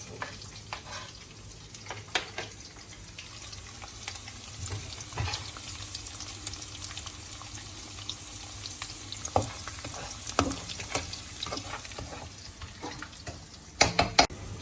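Garlic sizzling in a hot pan for MuddhaPappu, a constant low frying hiss broken by scattered sharp pops and stirring clicks, heard close and alone.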